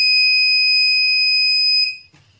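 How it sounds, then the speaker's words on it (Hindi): A 555 timer mosquito repeller circuit on a breadboard sounds a loud, steady high-pitched buzzer tone for about two seconds, then it cuts off and leaves a brief faint rustle. "आपको बजर की जो आवाज़ है वो अच्छे से सुनाई देगी"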